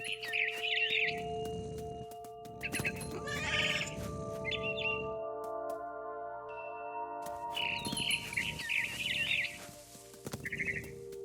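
Frightened bird chirping in the video game What Remains of Edith Finch, sharp repeated tweets in short bursts over a steady tonal game backdrop, with no talking.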